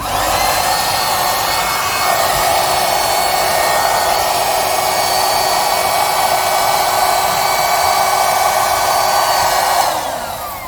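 An electric air pump inflates a car mattress pillow through its smallest nozzle, a loud, steady, close whine with a high buzzing drone that holds evenly, then slides down in pitch as the pump winds off near the end.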